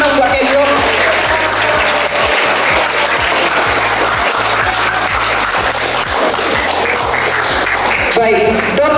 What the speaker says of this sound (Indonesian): Tepuk tangan dong buat Kenzo.